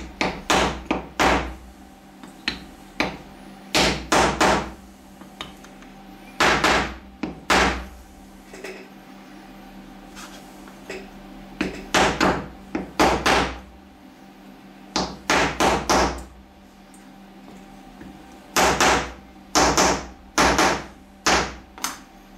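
Repeated sharp metallic hammer blows in quick bursts of several strikes, separated by brief pauses, close and loud, as sheet metal for a miniature M1911 pistol magazine is hammered over an edge.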